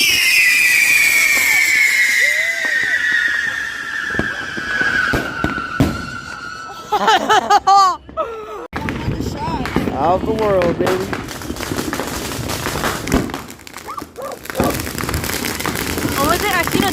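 A Transformers tube firework goes off over several seconds, a long descending whistle followed by loud crackling, popping bursts, with excited people talking and shouting over it throughout.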